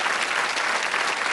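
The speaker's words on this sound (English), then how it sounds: "Give him a round of applause." Studio audience applauding on a British darts-themed TV game show, a dense, steady burst of clapping that fills the whole moment at close range with no voices over it.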